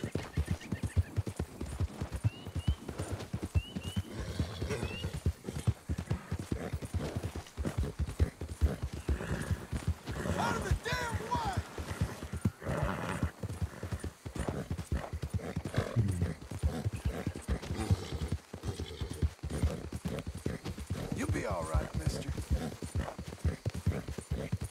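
Horse hooves gallop steadily in Red Dead Redemption 2, a continuous close rhythmic clip-clop pounding for the full stretch with occasional snorts and creaks of tack, no voices over it.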